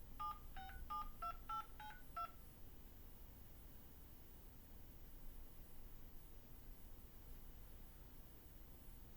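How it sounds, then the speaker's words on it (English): Telephone keypad tones as a phone number is entered: about six quick, evenly spaced DTMF beeps in the first two seconds, followed by a faint hiss of line noise with no talking. "Please say or enter your 10-digit phone number now."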